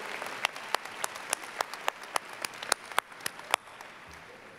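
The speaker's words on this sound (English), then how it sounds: "Let's give them a round of applause and thank them for all their support." Applause at a high school graduation ceremony, with scattered sharp claps standing out over a steady wash of clapping from the crowd that continues for several seconds, then fades out near the end.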